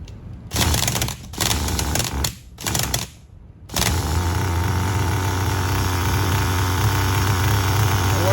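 HPI RS4 RTR3 nitro RC car engine turning over in several loud bursts of a starter with short gaps, then catching and settling into a steady, close, buzzing idle that continues to the end.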